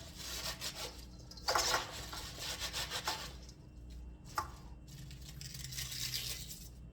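Shredded cabbage for sauerkraut is squeezed and rubbed together by hand, giving close, wet, crunchy scrunching and tearing sounds in repeated bursts with short pauses, no talking.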